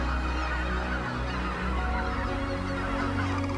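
Sandhill cranes calling steadily on a large bird-supporting property, a dense, continuous chorus of honking, trumpeting voices from many birds blending together at a fairly loud level, with no talking.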